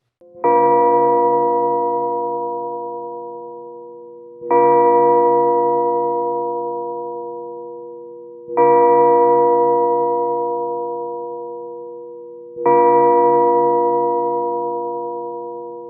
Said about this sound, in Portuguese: O relógio toca então 4 badaladas.